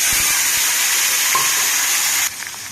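Dried prawns dropped into a hot pan for a ridge gourd and egg curry set off a loud, bright sizzle that holds strong and then eases abruptly near the end.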